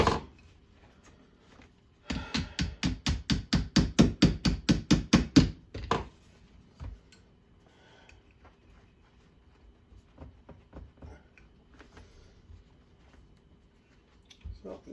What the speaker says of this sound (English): Just give it some light taps.